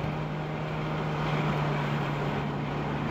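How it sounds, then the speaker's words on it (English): A 2006 Ferrari F430 Spider with a small-displacement, high-revving V8 pulling away after a U-turn, a steady, fairly loud engine drone with a constant low hum and broad road and wind rush for about three seconds. "We're gonna do a U-turn here and I'll do some acceleration for you."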